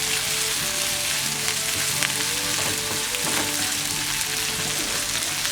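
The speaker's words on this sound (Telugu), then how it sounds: "ఉల్లిపాయలు మరీ బాగా వేగిపోవాల్సిన అవసరం ఏం లేదు ఫ్రెండ్స్." Onions frying in a pan for bottle gourd curry, a loud continuous sizzle and crackle throughout with light stirring and soft background music.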